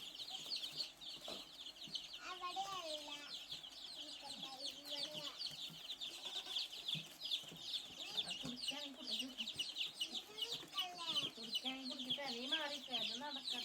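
Day-old Gramasree chicks from a government hatchery in Mannuthy peep and chirp constantly, many high calls overlapping close by in a dense, lively chorus throughout.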